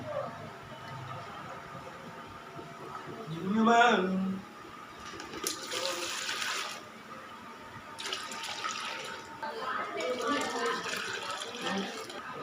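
Water pours out of a jug used to hold a betta fish, coming in several rushing splashy bursts, with a voice talking briefly before the pouring starts.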